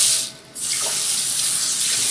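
Tap water runs steadily from a faucet while a vacuum cleaner pipe is rinsed at a sink, with a brief dip in the flow before it resumes as a continuous close hiss.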